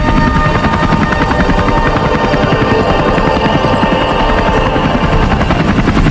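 A helicopter flies close and loud, its rotor chopping in a continuous, even pulse that holds steady throughout.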